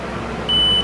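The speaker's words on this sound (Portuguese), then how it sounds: "teste de continuidade, no meu caso com BIP" A multimeter on continuity mode gives one short, steady high-pitched beep as its probes touch shorted parts on a Voyager 600W on-grid inverter under repair. The beep stands over a low background hum.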